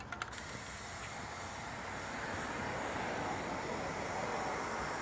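A can of black spray paint hisses in a continuous broad rush that starts right after a brief rattle and stays steady throughout.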